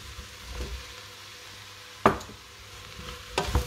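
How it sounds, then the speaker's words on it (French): Duck breast and chestnuts are stirred in a pan, heard as a soft, steady sizzle broken by a few sharp scrapes and knocks of the spoon against the pan, close and quiet, with no talking. "Et on mélange bien de nouveau"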